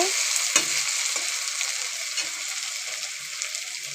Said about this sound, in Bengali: আলুও ভাজা বসিয়ে দিয়েছি